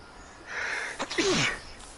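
A single sharp sneeze bursts out at close range, preceded by a brief intake of breath, with a quiet room around it.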